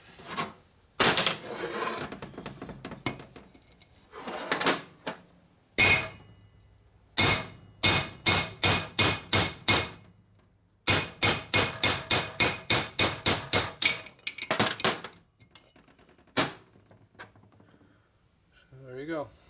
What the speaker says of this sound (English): So you use your driver right here, you beat it out with a hammer.